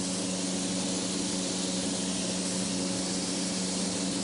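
A loud, steady high-pitched hiss of candy paint spraying from a high-output industrial spray gun, continuous throughout, with a low fan-like hum underneath.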